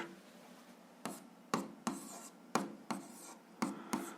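A pen scratches out an algebra solution on paper, a series of quiet, separate strokes and taps in an irregular rhythm, close up with no talking.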